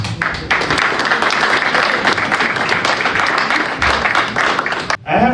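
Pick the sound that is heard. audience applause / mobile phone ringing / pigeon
audience applause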